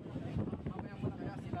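Strong typhoon wind and rain roar and buffet the microphone in Santa Ana, a dense, rumbling gusty noise with a voice speaking underneath.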